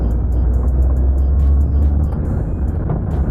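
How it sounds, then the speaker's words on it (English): A car on the road picks up speed, its engine holding a loud, close, steady low drone with a soft rattly texture and no clear break where the gear changes. "So I'll be now pulling the car a bit fast,"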